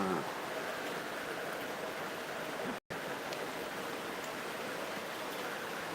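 A steady, even wash of heavy rain easing slightly after an afternoon downpour, a constant close hiss with no voices and a brief dropout midway.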